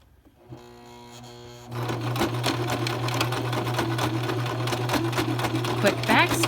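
A sewing machine back-stitches a fabric face mask, starting up with a quick whir and then running as a close, steady mechanical hum with rapid needle ticking that carries on to the end.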